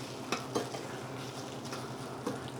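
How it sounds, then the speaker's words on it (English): Shrimp sautéing in a pan, a soft steady sizzle with a few louder stirring or utensil clinks scattered through, close and moderately quiet with no talk. "I'm going to add my shrimp. And just let those get sauteed a little bit."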